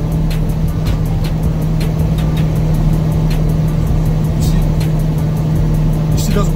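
A Swift flatbed truck descends a mountain grade under heavy engine braking, a loud steady low drone with a constant hum running throughout, close up inside the cab.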